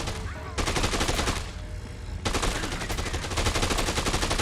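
Loud, dense automatic gunfire in the zombie game Dead Rising 2: Off The Record, continuous rapid bursts with a short lull before the shooting resumes.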